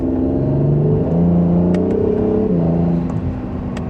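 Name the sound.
Acura NSX hybrid supercar accelerating in second gear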